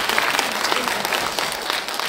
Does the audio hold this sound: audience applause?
yes